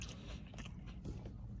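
A close, crunchy bite into a McDonald's McChicken Creation with crispy bacon, followed by a few moist chewing and crackling sounds, quiet and alone.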